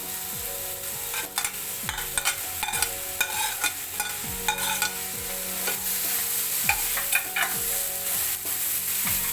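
Paneer frying and being stirred in a pan, with a steady close sizzle under repeated scraping and clinking strokes of a spoon throughout, no talking.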